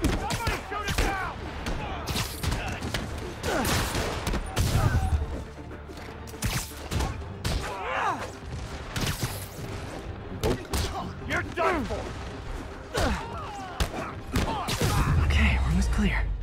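Gunfire rings out in Marvel's Spider-Man Remastered amid a busy combat scene, with repeated bursts and crashes layered over game music and effects while someone talks throughout.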